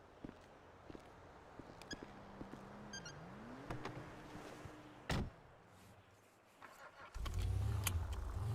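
A car pulls up outside during an arrest, with its engine humming and shifting pitch, a sharp door slam midway, then the engine roaring louder near the end, all heard without talking.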